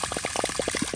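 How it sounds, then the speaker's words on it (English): Water gurgles and splashes as it flushes out of a water softener and conditioning system during installation, a close, rapid bubbling flow with no voices. "we should see a little bit of black water coming out"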